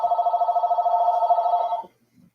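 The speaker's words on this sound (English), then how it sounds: "My phone is ringing at the wrong time." A phone ringtone rings steadily in a pulsing electronic tone for nearly two seconds, then cuts off abruptly, leaving a brief faint thump.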